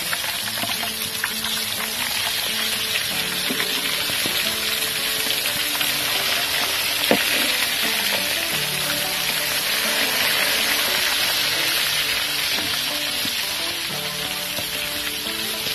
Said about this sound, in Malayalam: അപ്പോൾ ഇന്നിങ്ങനെ തിരിച്ചിട്ട് കൊടുക്കാം ഇപ്പുറ സൈഡ് കൂടെ വേവിക്കാനായിട്ട്